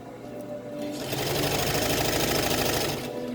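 A sewing machine stitching fabric for a dog coat, its steady rapid needle chatter starting after a quiet moment, running loud and close for about two seconds, then slowing to a stop.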